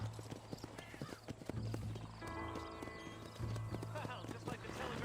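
Horse hooves clip-clop steadily in Red Dead Redemption, with an occasional whinny, game music and voices talking over the hoofbeats.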